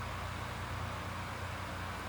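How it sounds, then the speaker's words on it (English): Steady broadband whooshing hum of a room fan running continuously, fairly quiet, with no voices or other sounds. "Sorry about the fan."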